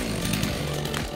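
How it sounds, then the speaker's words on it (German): Chainsaw felling trees during forest thinning, a steady close engine drone with low harmonic bands that shift slightly in pitch as it cuts, continuous for the whole moment. "Peter von Heeren fällt weiter entfernte Bäume mit der Kettensäge"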